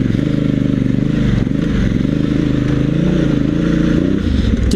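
A motorcycle on Kenda Paver Big Block 80/20 ADV tires climbs a dirt hill in first gear, its engine droning loud and close with a steady throaty note, rising slightly near the end, alongside some faint clatter.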